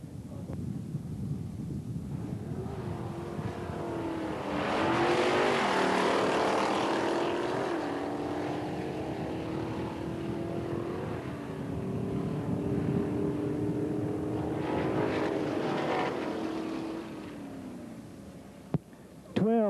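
A Pontiac Firebird race car roars along a drag strip at Ark City in 1990, its engine note climbing and shifting through gears at close range, with the announcer's voice over it.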